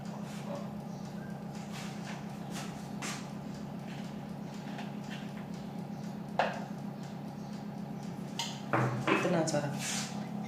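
Tutti frutti is tossed with a little flour in a bowl, giving soft scraping and occasional clinks of a spoon against the dish over a steady background hum, with a few sharper knocks near the end.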